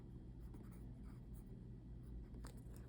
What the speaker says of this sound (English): I'll just write GMT here.